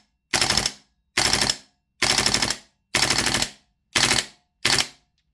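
APFG MCX Rattler gas blowback airsoft rifle (VFC) firing full auto in six short, sharp bursts of rapid snapping shots, loud and close, separated by brief silences.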